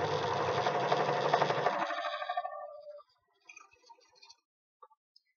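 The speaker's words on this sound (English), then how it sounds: "All we want to do is sew each section one at a time." A sewing machine stitches fleece or stretch fabric scraps into sections of a soft ball, running in a steady, close whir for about three seconds before stopping, followed by a few faint clicks.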